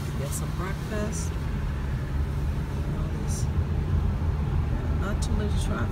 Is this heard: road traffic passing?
yes